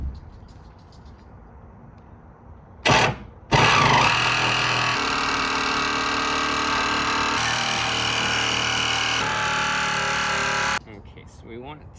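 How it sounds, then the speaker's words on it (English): A jigsaw cuts through a van roof panel to make the opening for a Maxxair fan, a loud, steady buzzing whine that runs for about eight seconds after a short burst, then stops abruptly. "now we're going to take the jigsaw and cut those lines out"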